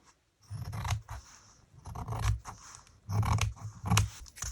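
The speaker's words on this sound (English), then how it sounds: "I'm just going to cut it here and then there" Scissors cut through sheer curtain-type fabric for an envelope in a series of crisp snips and scraping strokes, close and clear with brief pauses between cuts, no talking.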